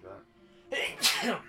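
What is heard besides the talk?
sneeze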